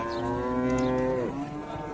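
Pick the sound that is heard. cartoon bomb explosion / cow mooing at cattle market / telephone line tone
cow mooing at cattle market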